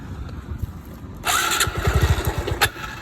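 A smoking Honda Wave motorcycle engine cranks and catches, settling into a close, rhythmic puttering idle with a few sharp revving pops.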